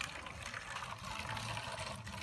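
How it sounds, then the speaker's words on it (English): Water poured into the reservoir tank of a small seed-planting and watering robot, a steady, close splashing trickle lasting a couple of seconds with no voices. "So let me pour some water into this"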